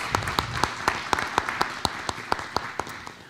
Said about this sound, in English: So if you would, give Miss Natalie Gallup a round of applause.